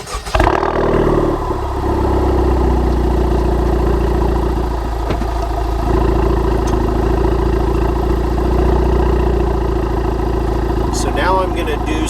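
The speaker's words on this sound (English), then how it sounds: "I'm going to go ahead and fire it up, let you guys listen to it at idle" A Honda Civic Type R with a Remus exhaust starts up and settles into a steady, loud, low idle rumble close by, with faint clatter and a brief voice near the end.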